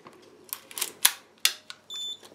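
A few sharp mechanical clicks and clacks, then a steady high electronic self-timer beep from an Olympus OM-10 film camera begins near the end, close and clear with no voices.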